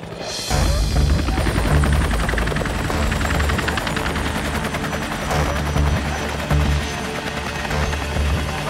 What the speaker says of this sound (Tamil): அங்க பாருங்க ஹெலிகாப்டர்.